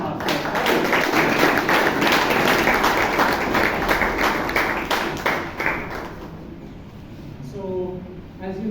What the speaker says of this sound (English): Please do a thundering round of applause to Toastmaster.